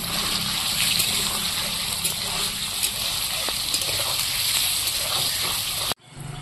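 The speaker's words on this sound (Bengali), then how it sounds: "পনিরগুলো সব কেটে নিয়েছি, এখন আমি ভেজে নেব। রান্নাটা পুরোটাই আমি সাদা তেলে করব।" Paneer fries in white oil with a steady, dense sizzle and crackle that holds at an even level, then cuts off abruptly near the end.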